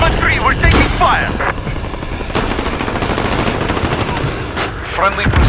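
Call of Duty Modern Warfare battle gunfire, dense rapid machine-gun bursts and booming shots crowding the whole stretch, with radio-style voices talking through the loud, continuous fighting.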